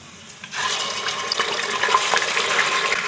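Mutton pieces drop into hot oil with browned onions in a cooking pot, setting off a sudden loud, steady sizzle that keeps hissing.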